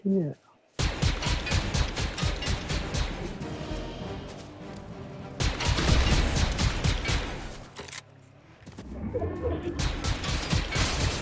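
Sustained, dense bursts of rifle fire, including sniper shots, crackle loudly in a battle royale shooter match, with a short pause near the middle before the shooting resumes.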